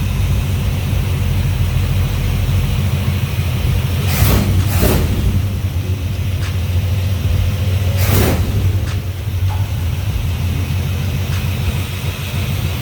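A car engine idles after a fuel line replacement with a deep, steady rumble nearby, while a few brief bursts of louder noise pass over it.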